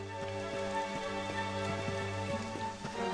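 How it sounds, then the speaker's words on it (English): Rain falls in the video game Dragon Quest XI, a soft pattering of raindrops under layered sustained game music, steady throughout with no talk. "雨が降ってきたわ。 急ぎましょう。"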